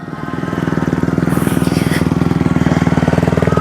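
A Rawrr Mantis X electric motocross bike is ridden in race mode on a motocross track, giving a fast, steady, rhythmic pulsing whir up close with a brief hiss of wind.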